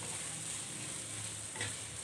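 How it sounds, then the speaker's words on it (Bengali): Onions frying in a pan, a soft, even sizzle held close and low in level, with one brief scrape or stir near the end and no voices. "পেঁয়াজটাকে ভালো করে ভেজে নেব"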